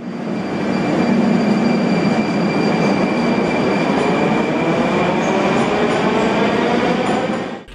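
A Moscow metro train runs past in a loud, steady roar and rumble with faint high squealing tones, no voices, fading slightly at the very end.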